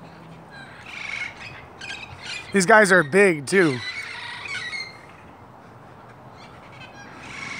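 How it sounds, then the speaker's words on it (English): Wild parrots in the hills near Los Angeles, Southern California, let out a burst of harsh, rising squawks midway through, loud and close, with a person talking before and after. "Parrots in Los Angeles, Southern California."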